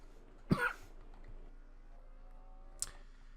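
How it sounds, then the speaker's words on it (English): A single harsh cough from a person fighting a cold, close and abrupt, then quiet room tone with a faint click later. "I apologize again for coughing"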